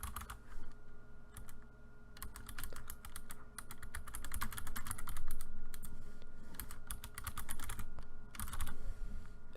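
Rapid keystrokes on a computer keyboard while text is entered during video editing software work, a steady run of close clicks with brief pauses, alone without talk.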